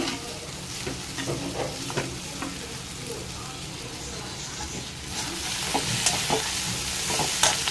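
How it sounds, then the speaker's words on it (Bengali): A spice mixture fries slowly in a pan on a gas stove, giving a continuous close sizzle broken by repeated scraping stirs of a spoon, louder near the end. "এটা এখানে ভাজা হোক আস্তে আস্তে ভালো করে"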